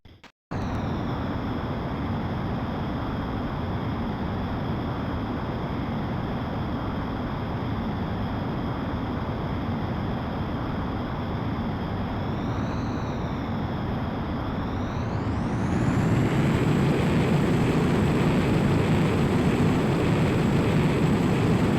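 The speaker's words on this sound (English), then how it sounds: "Griffith 1, you are cleared for takeoff." An F-15E Strike Eagle jet in Ace Combat X powers up for takeoff, a loud, constant engine roar that holds steady and then swells louder and brighter as thrust builds near the end.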